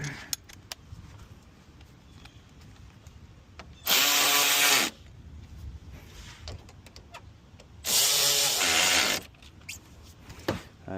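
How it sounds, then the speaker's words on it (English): A power drill with a Torx bit drives small screws into plastic on a 2008–2014 Dodge Avenger during a radiator replacement, in two short whirring bursts of about a second each, close by, separated by quiet handling noise. "I'm just gonna leave these in now. Torx bit right here."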